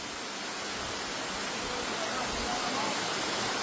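A jungle waterfall, the third falls along a trail, roaring as a loud, steady broadband rush that fills the whole stretch without a break.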